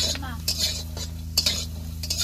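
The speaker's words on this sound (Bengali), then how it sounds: "ভালো করে রসুন আর পেঁয়াজটা কাঠখোলায় ভেজে নেব।" Onion and garlic are dry-roasted in a pan, with repeated sharp spatula scrapes and clinks against the metal over a low, steady background hum.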